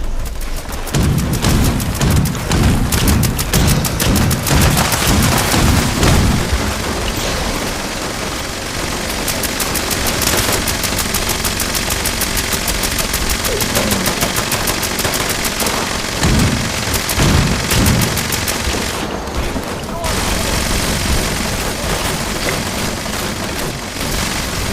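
Gunfire and grenade explosions in the video game Fallout 76, sustained loud chaotic shooting with booming blasts throughout, a dense continuous barrage.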